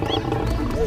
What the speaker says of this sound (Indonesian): Ini adalah hewan singa.